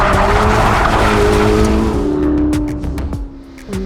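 A 2025 Corvette ZR1 rotating under throttle, its engine roaring loud and close with a sustained tire squeal as the car slides, then the engine note dropping away and the squeal fading into quieter scuffing.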